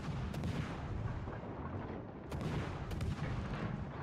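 Naval artillery from a battleship in a video game: heavy, continuous booming rumble with a few sharper blasts, loud and close, with no voices over it.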